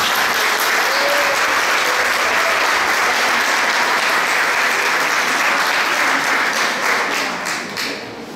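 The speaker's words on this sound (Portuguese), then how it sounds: "Eu queria pedir uma salva de palmas hoje para as mulheres." Sustained applause from an audience at a spiritual talk in Murutinga, São Paulo, a dense steady wash of clapping that holds evenly before thinning and fading near the end.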